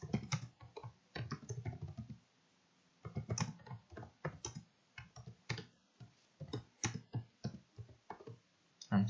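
Computer keyboard typing while editing a spreadsheet chart title, quiet clustered bursts of keystrokes separated by short pauses, close and clear with no talk.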